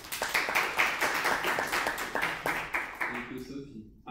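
Audience applause at a student network conference fills the room as a steady, fairly distant wash of many hands that fades out at the end.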